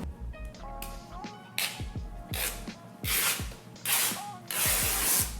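Fabric from a cheap $1 dress tears apart in a series of sharp ripping bursts that grow longer and louder, with small snipping and handling noises between them.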